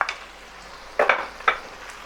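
Chunks of beef and peppers for a sauté fry in their own fat, a soft steady sizzle broken by a few louder scraping stirs near the end.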